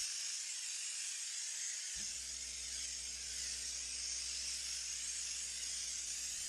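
Fluid Film undercoating sprays onto a truck's rear axle and rear suspension as a steady, close aerosol hiss that runs the whole time, with a low motor-like hum joining partway through and continuing to the end.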